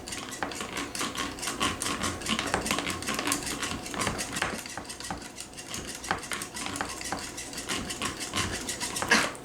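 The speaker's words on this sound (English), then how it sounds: "Now I'm going to give that another little mix." A whisk rattles and clinks rapidly against a bowl while heavy cream is mixed into a cheesy cauliflower casserole mixture, a quiet steady scraping with no talking.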